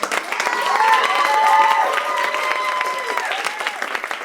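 Audience applauding at a poetry slam, a dense wash of clapping with some cheering that swells and carries on for several seconds, with faint voices mixed in.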